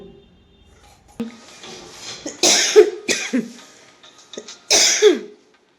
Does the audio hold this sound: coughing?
yes